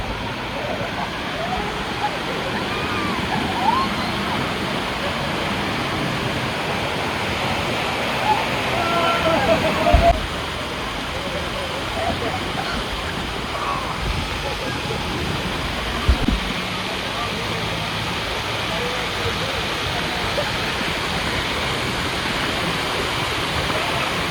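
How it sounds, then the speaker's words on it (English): Steady rushing water in a lazy river at Dorney Park & Wildwater Kingdom, a continuous broadband wash running throughout at moderate loudness with a couple of brief bumps. "This lazy river brings back childhood memories."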